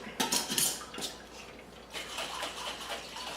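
A spoon stirring hot water in a glass mason jar, giving quick clinking and swishing taps against the glass, loudest early then settling into softer sloshing, with no talk.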